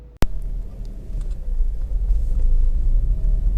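A sharp click, then a Honda CR-Z 1.5 GT hybrid pulls away on the road, its low engine and road rumble building steadily and staying loud from inside the cabin, with no talking.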